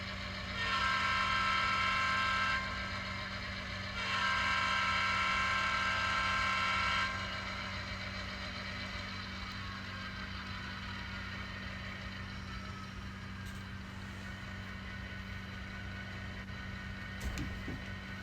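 Model railroad locomotive pulling a train onto a passing siding, giving a steady mechanical rumble and whir throughout with two louder, brighter stretches early on and faint clicks near the end.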